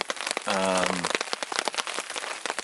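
Steady overnight rain keeps falling on a wet campsite during a canoe trip in Algonquin Park, a dense, even patter close by, with a brief tonal sound rising over it early on.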